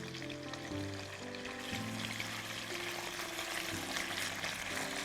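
Chicken pasande, stuffed chicken pieces, frying in oil in a home kitchen; a steady, close crackling sizzle runs throughout beneath continuous background music, with no talking.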